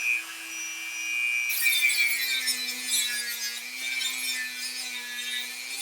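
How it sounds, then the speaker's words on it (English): A Dremel rotary tool grinding a standard poodle's long claws, a steady high whine with a rough grinding texture that shifts slightly in pitch as it runs along the nail, close and fairly loud, no talk. "So I kind of run the Dremel along the toes like a horseshoe with the round part on top."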